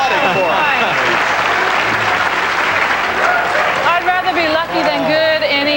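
A studio audience at a 1989 televised bowling shootout claps loudly and steadily for nearly six seconds, with a commentator's voice rising over the applause near the end.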